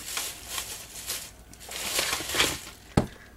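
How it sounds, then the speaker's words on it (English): Crinkly plastic shopping bag rustling in irregular bursts, close by, ending with a sharp thump; no talking. "I apologize in advance for the bag rustling that you will hear."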